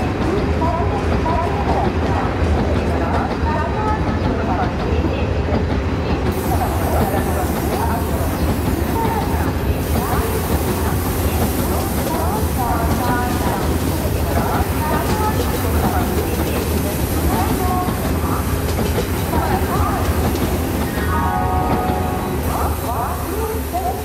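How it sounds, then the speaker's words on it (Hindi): Train Simulator game audio of the Vande Bharat Express on its Howrah to Puri run: a sustained rail rumble with rhythmic clatter and some horn-like tones. A voice talks over parts of it. "तो गाइस यहाँ पर आ जाती है हावड़ा से पुरी के लिए जाने वाली वंदे भारत एक्सप्रेस"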